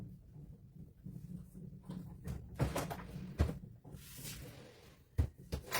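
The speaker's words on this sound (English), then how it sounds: "I have a drawer that wants to stick." Sticking drawer being pulled open, a series of scraping, rubbing pushes and dull knocks that build irregularly, with a sharper thump near the end, close and alone.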